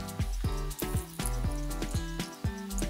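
Water is poured into a baking-soda mixture for a home science experiment, making a continuous close splashing flow with music playing along behind it.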